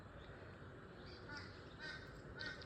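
A crow cawing outdoors in the early morning: a few faint, distant caws over a steady background hiss.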